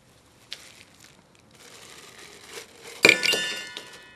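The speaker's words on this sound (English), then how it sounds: "I'm going to go ahead and add a modest amount of ice to the shaker" A few ice cubes drop into a cocktail shaker while a Jungle Bird is being mixed. The clink and rattle come once, close and sharp, near the end after a quiet stretch.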